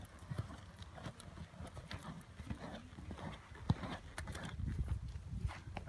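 A horse walks in an arena during a training session in German reins, its hooves clip-clopping in a steady, uneven rhythm at close range.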